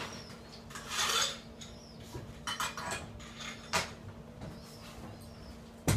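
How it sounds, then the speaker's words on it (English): A cocktail of rosemary and green chartreuse is stirred in a mixing glass, giving close, bright clinks and scraping swirls in uneven bursts over a faint steady hum. Nobody speaks. "we're going to give it a nice stir"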